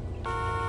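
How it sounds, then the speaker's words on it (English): A police car horn in the racing game The Crew 2 blares as a steady, bright tone, starting abruptly a quarter second in and holding loud to the end over a low engine rumble. "And horn."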